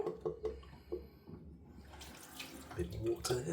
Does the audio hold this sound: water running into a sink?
yes